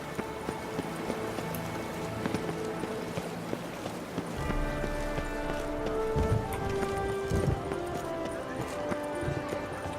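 Horse galloping in The Witcher 3, a steady clip-clop of hooves with a brief whinny, under game music and ambience, the hoofbeats growing louder partway through.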